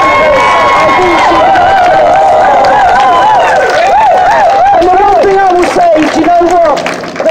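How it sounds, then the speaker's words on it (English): A loud rally crowd claps and cheers continuously, with high whoops and shouting voices rising over the dense clapping throughout. "Please, please, please make that applause louder and bigger."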